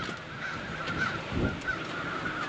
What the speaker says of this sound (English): You guys see this crazy murder of crows? I mean, wow. Look at them all.